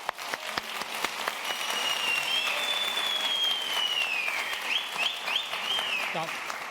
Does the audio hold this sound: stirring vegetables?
no